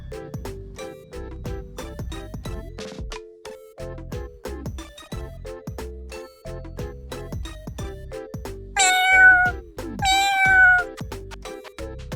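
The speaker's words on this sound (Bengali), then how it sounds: "আরে এ দেখি একটা ছোট্ট বিড়ালের বাচ্চা কান্না করছে।" A cartoon kitten gives two high, thin meows close by, heard over a rhythmic plucked backing melody.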